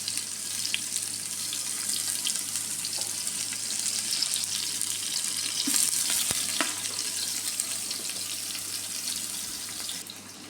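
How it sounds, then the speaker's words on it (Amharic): Onions go into a hot pan for biryani and fry with a steady, dense sizzle and crackle throughout, close up, with occasional stirring scrapes. "አሁን ደግሞ ኢንሻአላህ ይሄው ሽንኩርት ጨምራለሁ"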